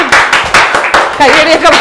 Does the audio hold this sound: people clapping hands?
yes